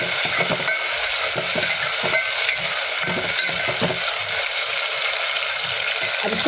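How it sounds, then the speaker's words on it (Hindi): Chopped onion and tomato are sautéed in a pan for dal makhani, giving a dense, steady sizzle close by with irregular stirring scrapes throughout. "अब इसको थोड़ी देर भून लेंगे"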